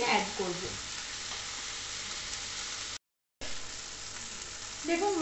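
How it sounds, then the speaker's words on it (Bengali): Capsicum sizzles steadily in a pan of hot oil, with a constant crackle broken by one short silent gap and some brief stirring noise near the start and end. "আসুন এটাকে খুব ভালো করে প্রথমে আমি ভেজে নিই"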